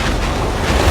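Large ocean waves surging near a small boat, a loud broad wash of surf mixed with heavy wind buffeting the microphone, no voices.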